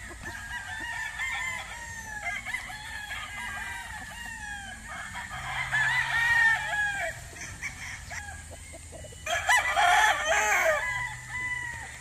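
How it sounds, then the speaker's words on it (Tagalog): Several roosters crow one after another, with chickens clucking in between, fairly close in an open gamefowl farmyard. "Ito, daming manok."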